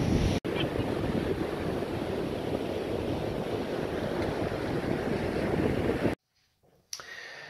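Surf rolls in steadily on a Florida beach at Hutchinson Island, a continuous broadband wash of waves with wind buffeting the microphone, cutting out briefly near the end before resuming.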